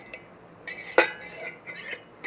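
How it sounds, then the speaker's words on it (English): A spoon stirs a cup of tea, giving a few sharp, close clinks against the cup, one loud and ringing, the others lighter and scattered, over a quiet room with no talking. "I'm pretty sure this tea and me stirring it is gonna catch on this microphone"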